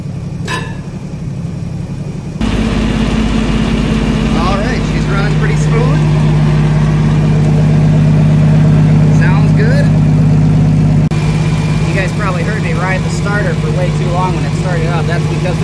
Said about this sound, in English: Usually the carburetor bowl empties out and it takes a little while to pump up. But it turned over.